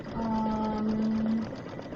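A sewing machine runs in one short steady burst of about a second and a half, close and humming, as it stitches fabric for a zipper bag.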